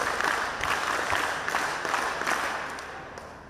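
Applause from a school audience at a computer and robotics lab inauguration, a dense steady patter of many hands clapping that gradually fades toward the end.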